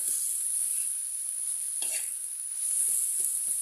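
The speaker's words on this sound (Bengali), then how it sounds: "এখন একটু নেড়ে চেড়ে ভাজা ভাজা করে নিয়ে নামিয়ে নেব" Fenugreek greens sizzle steadily in a pan while a spatula stirs them, one scrape midway and a few quick knocks near the end; nobody speaks.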